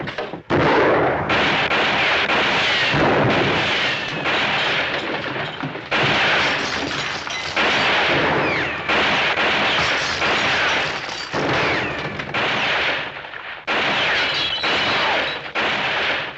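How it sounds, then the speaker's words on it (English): Heavy gunfire in a Western scene comes in long, loud, distorted bursts of booming shots and blasts that keep going almost without pause, with no voices over them. "Hey, somebody's shooting at somebody."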